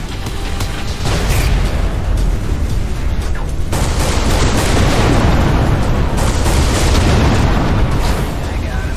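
A space battle in the video game Everspace 2 erupts with torpedo blasts and turret fire, a dense, loud, continuous wall of booming explosions and rapid shots that barely lets up.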